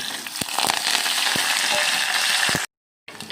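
Hot oil sizzles loudly and steadily as urad dal, dried red chillies, curry leaves and garlic fry, with sharp crackles and pops scattered throughout, then cuts to silence briefly before sizzling resumes.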